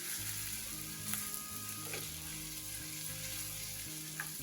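Finely chopped ginger and green chillies sauté in hot oil in a pan, giving a steady, close sizzle and frying crackle throughout, with a few faint stirring scrapes and no talking.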